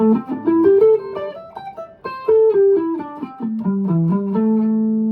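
A guitar plays a short minor pentatonic scale phrase of single notes that moves up and then back down, clean and close, ending on a held low note.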